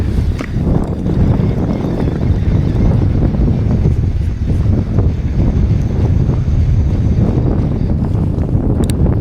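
Steady wind roars across a lake during bass fishing from a small bass boat, a continuous low rumble filling the whole stretch with no talk.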